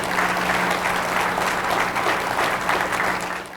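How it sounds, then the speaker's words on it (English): Steady applause from an audience honoring Blue Star Mothers at a pro football heroes event, dense and continuous, fading slightly at the end. "Give them a round of applause."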